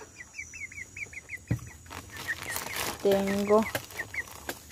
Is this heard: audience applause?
no